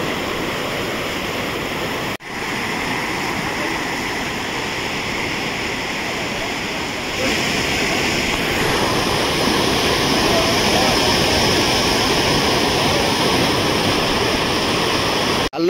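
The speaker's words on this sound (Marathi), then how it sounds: "तो समोर दिसतोय ना तो वाला धबधबा. एक छानसा धबधबा झालेला आहे बघा तिकडे." Rushing water from a scenic hidden waterfall near Parola in Hingoli, a steady broadband roar that stays continuous throughout, growing slightly louder partway through, with no talk over it.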